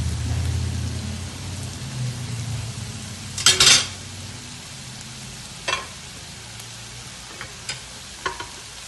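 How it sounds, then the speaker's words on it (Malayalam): Grated coconut is stirred into a raw green banana thoran in a hot pan: a soft, rain-like sizzle punctuated by a few sharp spatula scrapes, with no voices. "തേങ്ങ ചേർത്ത ശേഷം നന്നായിട്ട് ഇളക്കിയെടുക്കാം"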